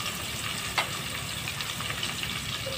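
Sliced onions fry in hot oil for a small-fish chorchori, a soft, continuous sizzle with faint crackles and a light clink of utensils, close and fairly quiet, with no voices.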